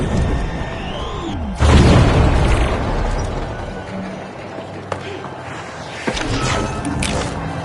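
A frag grenade goes off in a shooter video game, a sudden loud boom at about the 1.6-second mark followed by a long rumbling tail and scattered gunfire-like pops, with players talking over it.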